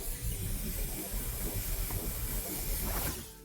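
Bug spray hisses steadily from an aerosol can in the background, a continuous loud spray that runs for a few seconds before tapering off near the end.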